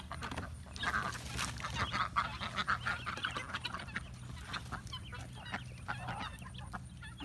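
A busy barnyard chorus of quacking ducks, clucking chickens and chattering guinea fowl, overlapping continuously at moderate distance with no talk.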